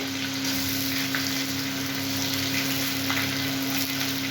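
Onions sizzling in hot oil with cloves, cinnamon and bay leaf, a steady dense frying hiss with a constant hum beneath, close and continuous with no talking.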